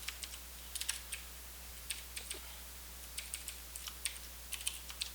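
Computer keyboard typing, quiet scattered keystrokes in short irregular bursts over a low steady hum, no voices.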